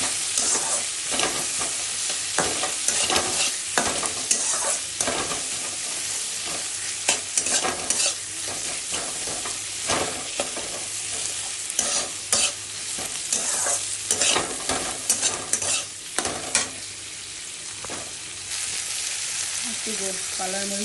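Lesra bhorta ingredients are stir-fried in a pan with a continuous loud sizzle, while a utensil scrapes and stirs in a steady, irregular rhythm close by, with no voice heard.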